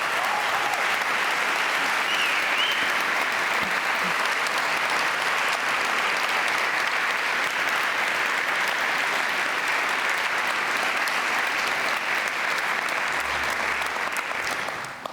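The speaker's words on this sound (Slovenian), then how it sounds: "Prosim, še en aplavz." Sustained, dense applause from a large audience at a girls' choir gala concert, loud and even throughout, with no voices standing out.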